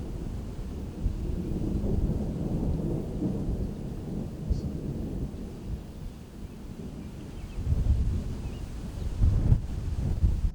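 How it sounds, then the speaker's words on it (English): Thunderstorm from a tornado-warned supercell near North Collins, New York: continuous low rumbling thunder and steady rain wash with wind buffeting the microphone, swelling louder toward the end, no voices. "I was able to intercept this tornado-warned supercell near North Collins,"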